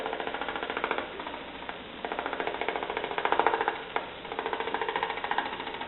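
A woodturning gouge cuts into a spinning stump on a lathe, giving a rapid, steady chattering rasp that surges and dips slightly with the tool pressure, heard close with no talking.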